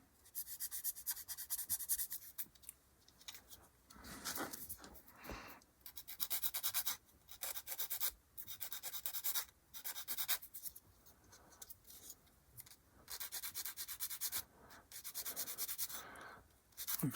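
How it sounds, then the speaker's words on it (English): Sanding stick rubbing a small plastic part on a 1/48 scale HK Models B-25J kit, a close, dry scratchy scraping in repeated bursts with short pauses, no talking. "This one will require clean up with a sanding stick."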